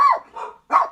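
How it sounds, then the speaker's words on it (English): Dogs bark close by in a few sharp, loud barks with short gaps between them, heard alone without talk. "My dogs are still barking."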